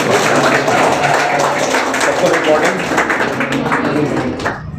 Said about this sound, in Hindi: तो सभी कोई खड़े हो जाएंगे और जोरदार तालियों के साथ स्वागत करेंगे।